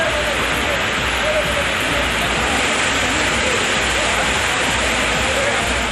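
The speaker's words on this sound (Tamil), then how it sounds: "இடியுடன் கூடிய கனமழை பெய்தது" Heavy rain pours down steadily across city streets and a bus stand area, a loud, dense, unbroken wash of water with no distinct thunderclap standing out.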